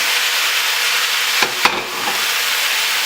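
Thinly sliced, still-wet chicken breast sizzling in a hot pan, a dense, loud, continuous hiss with two quick bursts as the pieces are moved.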